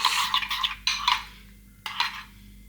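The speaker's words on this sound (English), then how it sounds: "and then give it a good mix" A dessert spoon stirs a honey, garlic and parsley chicken marinade in a bowl: close, bright scraping and clinking in three short bursts, with a quiet pause before the last one and no talking.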